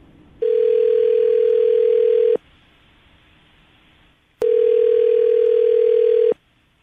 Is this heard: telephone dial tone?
yes